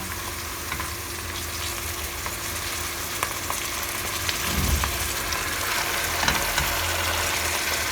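A steady sizzle of wild herbs cooking with onion in a hot pot fills the clip, with occasional light scraping and a low background hum.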